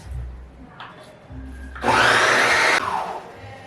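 A blender runs on hummus for about a second, a loud, steady whirring burst that starts abruptly and cuts off, with quieter kitchen noise around it and no talk.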